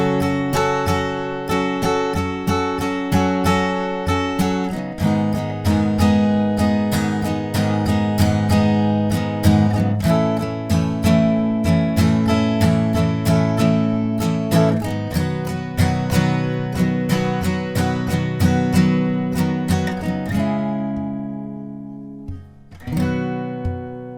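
Guitar strumming the bridge chords of a song, each chord struck once and left to ring in a slow sequence, close and clear, with no voices.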